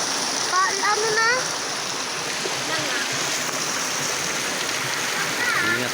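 A riverside stream rushes steadily as broadband water noise, loud and continuous, with faint bird-like chirps over it at a few points.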